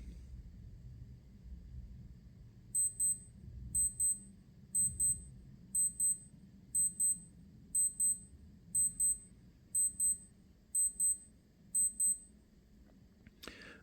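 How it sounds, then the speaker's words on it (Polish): A Casio Pro Trek PRW-3500Y wristwatch alarm beeps in ten evenly spaced double-beep bursts, high and thin, over a low background rumble. "już kilka sekund zostało do wybrzmienia alarmu"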